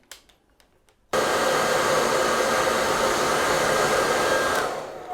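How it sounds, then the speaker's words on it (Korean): A hair dryer switches on after a second of near silence and blows steadily and loudly to dry hands, a continuous broadband roar that eases slightly near the end. "손을 드라이기로 한번 건조를 시켜봤어요."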